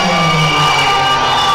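Fight-night crowd of fans roaring and cheering at a Brazilian STR Fight bout, a dense steady wall of voices with shouts rising through it.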